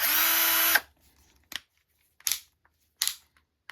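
A Hercules cordless 12-volt compact 3/8 drill whirs loudly and steadily for under a second, then stops, followed by three short sharp clicks or bursts spaced apart.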